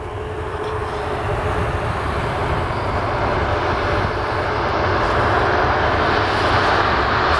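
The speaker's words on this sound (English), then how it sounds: "I think we have an airplane coming here." A steady, rising jet engine roar builds gradually, a broad droning rumble growing louder as an airplane approaches Portland airport in wacky weather, with no voices.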